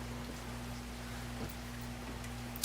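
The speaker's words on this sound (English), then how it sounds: "Ooh, it's raining out." Rain falls outside as a soft, steady hiss and patter. It is faint and sits under a constant low electrical hum, with a small tap near the end.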